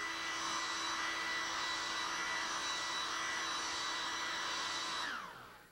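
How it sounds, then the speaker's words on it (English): A hair dryer blows across glue on a knife sheath with a steady loud whirring hiss for several seconds, then switches off and winds down. "A lot of times what I'll do is I'll take a hair dryer"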